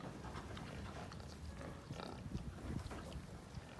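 Piglets nursing from sows grunt and squeal softly in a muffled, continuous jumble, with wind-like rumble in the background.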